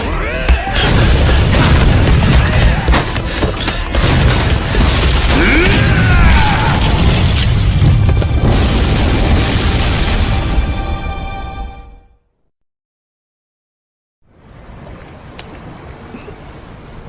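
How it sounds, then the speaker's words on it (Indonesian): Loud, dense video game explosions from a ship blowing up in Yakuza 1, with rumbling debris rolling on for about twelve seconds, then cutting to silence before a quieter, steady ambience returns. "banyaknya bom yang dilempar menyebabkan kapal Terada meledak"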